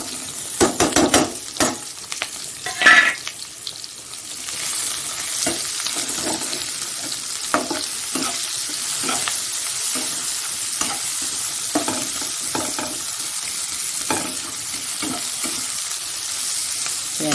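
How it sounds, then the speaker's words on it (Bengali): Chopped onion hits hot oil in a pan for a crab curry, with sharp scraping stirs and clatter at first, then a steady, close, continuous sizzle broken by occasional spatula scrapes. "পেঁয়াজ কুচিয়ে রেখেছি এই পেঁয়াজটা দিয়ে দিচ্ছি"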